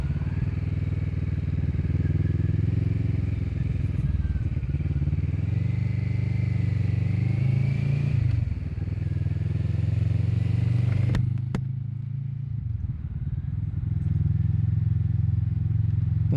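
A Kawasaki Vulcan S motorcycle being ridden, its steady low engine drone close and constant with gear changes and shifting revs, wind noise over it and a brief clatter near the end.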